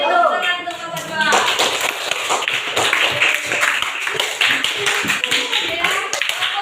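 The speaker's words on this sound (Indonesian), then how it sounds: "tepuk tangan untuk kelompok 2" Classroom applause for group 2, a sustained loud patter of many hands clapping close by, with voices mixed in at the start.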